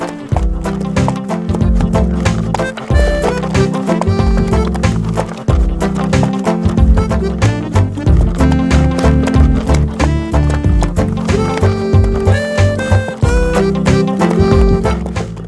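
Steady clip-clop of a ridden horse's hooves on a farm in a brisk, even rhythm, loud and close, playing alongside bright music throughout.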